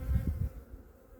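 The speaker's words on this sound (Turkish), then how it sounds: "Bu arı diğerlerine göre daha sakin." Close buzzing of honey bees at the hive, a low droning hum with a few louder swells at the start, fading slightly toward the end.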